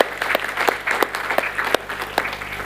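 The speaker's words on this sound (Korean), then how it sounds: "우리 다시 한번 손님들과 모두 다 함께 박수로 환영하십시다." A church congregation at a Sunday worship service claps to welcome guests, including visiting missionaries and their families, producing steady rhythmic applause with clear individual claps close by.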